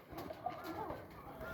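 Pigeons coo softly in a pigeon loft on a small farm, overlapping low throaty calls repeating through a steady murmur of birds close by.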